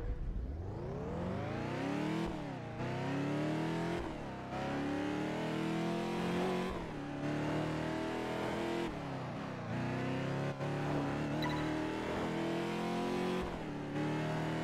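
Caterham sports car in the driving game Test Drive Unlimited 2, its engine revving hard and climbing through gears, loud and close, with brief drops between shifts and no talk.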